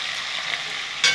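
Spice tempering for a cucumber curry frying in a pan, a steady soft sizzle with a brief louder stir at the end.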